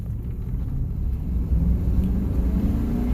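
A 1999 Chevy Silverado with a 5.3L V8 running lean pulls at wide open throttle, a steady deep engine rumble building slightly in loudness over a few seconds, heard from inside the cab with no talk.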